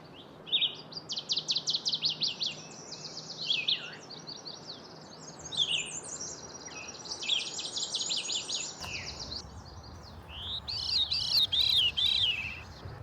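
Several warblers, including redstarts, sing in a forested wetland, their quick high trills and chirps overlapping in bursts over a soft, low background hum, with no voices.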